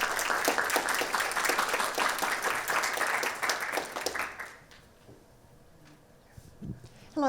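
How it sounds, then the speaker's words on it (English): An audience claps for a panel of speakers, dense applause holding for about four seconds before fading out into a quiet room with a few stray sounds. "So let's give a big round of applause for all of our speakers."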